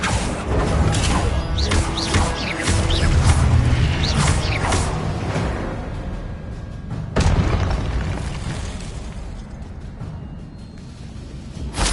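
Confringo blasting spell in the Hogwarts Legacy video game, a heavy booming explosion with crashing, creaking debris, followed by a second sharp blast around the middle that rumbles away into lingering game ambience.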